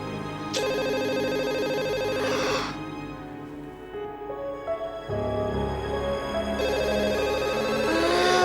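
A telephone rings at night with a loud electronic ringtone, playing in repeated bursts with a short lull in the middle and no talk over it.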